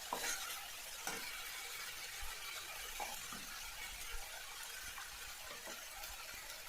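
Spice paste and tomato stirred and fried in a pan for a Bengali katla kalia fish curry, giving a steady close sizzle with soft scraping stirs and a few brief squeaky clicks throughout, no talking.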